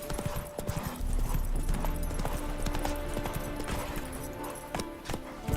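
Horse hooves gallop in the video game Witcher 3, a rapid, loud clip-clop rhythm of hoofbeats that carries on steadily and closely throughout.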